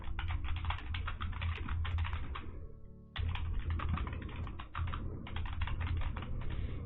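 Steady typing on a computer keyboard, with quick continuous key clicks over a low hum and a brief pause near the middle before the typing resumes.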